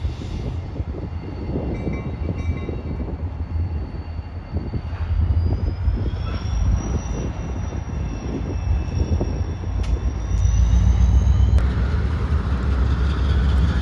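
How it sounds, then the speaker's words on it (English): A lone SD40-2 diesel locomotive working the Youngstown rail yard in Louisville, with a deep, steady engine rumble throughout and a faint high whine that rises gradually, swelling louder near the end, with no talk. "we see a solo SD40-2 working the yard"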